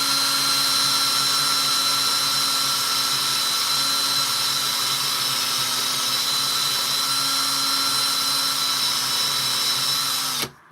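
A steady, loud power tool grinds fire scale off a coin ring, a continuous high whine with no talk, holding even for about ten seconds before cutting off sharply at the end.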